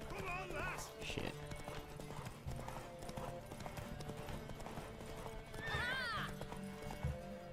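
Horse hooves clip-clop at a gallop in a race in The Witcher 3, with two sharp neighs cutting through, close and loud, while someone talks over the action.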